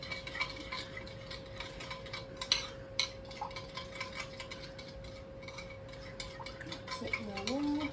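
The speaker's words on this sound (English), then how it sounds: "stir it all together" Ingredients are stirred together in a bowl. A utensil scrapes and clinks against the bowl in quick, uneven, rattling strokes that carry on steadily and up close, over a steady background hum.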